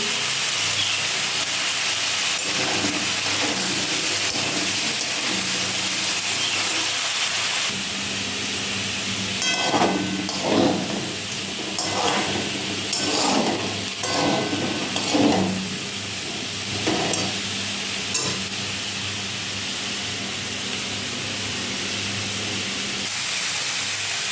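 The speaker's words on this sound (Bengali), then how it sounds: "আর এদিকে আলু ভাজছি" Potatoes fry in hot oil in a home kitchen, a steady close hiss and sizzle holding throughout, with brief louder crackling bursts in the middle and no talk.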